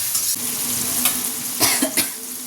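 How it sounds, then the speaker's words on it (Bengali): Spices with turmeric, Kashmiri chili powder and onions being stirred and sautéed in oil in a pan, with a hissing sizzle and several sharp scrapes of the spoon against the pan, up close and with no talk. "আগে ভালো করে কষিয়ে নিই"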